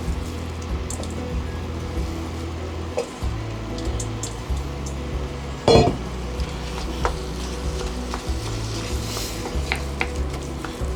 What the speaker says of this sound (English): We're then going to add our mince as well, once we just give this a quick stir.